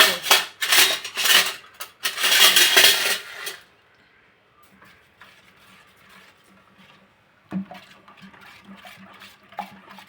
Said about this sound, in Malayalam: ഇതെല്ലാം കൂടെ ഒന്ന് ഇളക്കണം